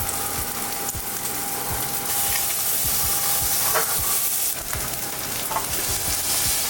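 A salmon fillet sears in a hot skillet, giving a steady, loud sizzle and hiss throughout, with faint scraping and ticking bits over the continuous frying noise.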